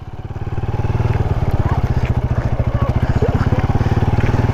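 A quad bike engine revs up from a lower idle into a steady, loud throbbing drone, close by, with a fast rhythmic pulse holding throughout.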